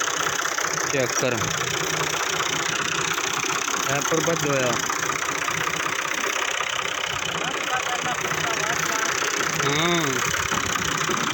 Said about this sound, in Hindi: चेक करो 2006 मॉडल ट्रैक्टर है 480